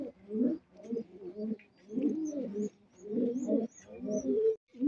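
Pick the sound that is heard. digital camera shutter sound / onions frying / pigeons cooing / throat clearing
pigeons cooing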